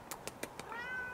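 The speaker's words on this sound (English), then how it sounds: "the cat wants to know what I'm doing." A cat gives a quick run of four short, clipped meows, then a longer drawn-out wavering call, close and clear in a quiet room.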